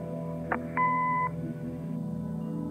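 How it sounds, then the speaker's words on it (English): A short click followed by a single clear electronic beep lasting about half a second, over a low steady hum, like an answering machine tone. "Leave a message after the beep."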